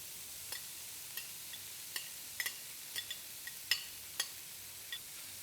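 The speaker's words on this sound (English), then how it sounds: "I'm giving it a very gentle stir" A banana blossom and bean stir-fry with grated coconut is gently stirred in a pan, soft scattered ticks and scrapes of the spoon over a faint steady sizzle.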